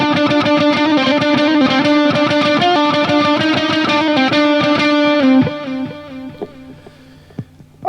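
Bright plucked notes on a Fender Fullerton Tele electric ukulele ring out with repeating delay echoes, then the strumming stops and the echoes trail off.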